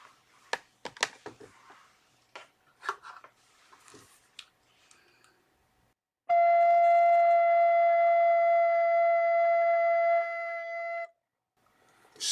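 An alto recorder sounds a high F, fingered with the left thumb and middle finger, as one clear steady note held for about five seconds, preceded by faint scattered clicks.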